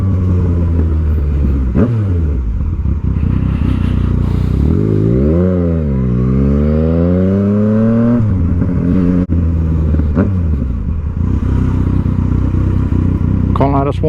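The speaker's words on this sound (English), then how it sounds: "Honestly, I love this bike, man. It just sounds so good." Motorcycle engine at a street bike meet, revving up and down in loud sweeping pitch rises and falls, close and dominant throughout.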